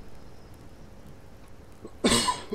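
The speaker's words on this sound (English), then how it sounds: "Sorry about the coughing." A single sharp cough bursts out near the end after quiet background hum, loud and close.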